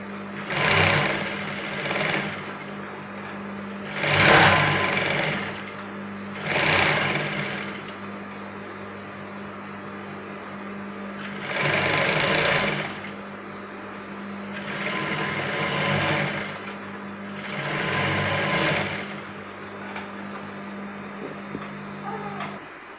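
A sewing machine runs a frock seam on its longest stitch length in several short bursts separated by pauses, with a steady hum between them; close, loud and without speech.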